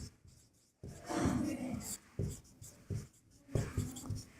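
A pen scratching across paper while working a geometry problem, close and quiet, in uneven bursts of strokes with brief pauses, no voices.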